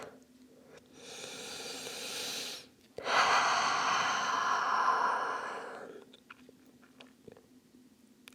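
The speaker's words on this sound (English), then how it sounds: "take a few cleansing breaths here, in through the nose, out through the mouth" Two long, steady breaths, each drawn in through the nose and let out through the mouth during a yoga flow: a broad airy rush from about 1 to 2.6 s, then a louder, fuller exhale from 3 to 6 s, close and alone in a quiet room.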